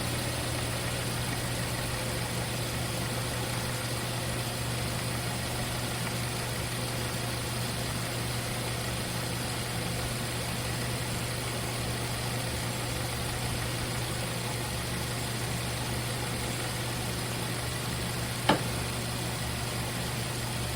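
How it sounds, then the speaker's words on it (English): A 2013 Subaru Outback engine idles steadily with a low, even hum and constant vibration, with one brief click near the end. "it's idling down."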